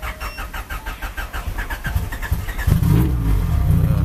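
A 600+hp Honda Prelude engine cranks over with a rapid rhythmic starter whir, then catches at about the three-second mark and settles into a loud, rumbling idle up close.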